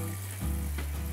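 Two pounds of Yardley Steak Burger ground beef sizzle in a pan with a steady, close hiss that swells as the meat hits the heat.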